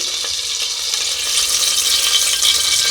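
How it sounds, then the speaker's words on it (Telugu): Ghee and oil heat in a pressure cooker and fry with a steady, close hissing sizzle that continues throughout and grows slightly louder toward the end. "ఇది కొంచెం వేగాలి ఎందుకంటే నూనె కాగాలన్నమాట బాగా నెయ్యి అంతా కరిగిపోయి"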